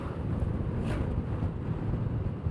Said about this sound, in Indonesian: Anginnya lumayan gede nih.